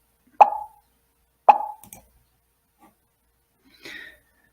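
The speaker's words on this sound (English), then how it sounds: "when we play it, you hear a pop and it's random" Two sharp, cartoonish pop sounds from a programming tutorial ring out about a second apart, each short and isolated, followed by a faint softer pop.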